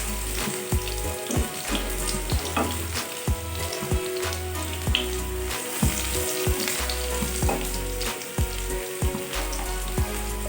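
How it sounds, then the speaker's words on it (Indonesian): Garlic sizzles as it is sautéed in a pan for a stir-fry of garlic chives and quail eggs, with a dense, steady crackle and frequent stirring clicks, close and continuous without talk. "kita masukkan bawang putih. Kita tumis lagi."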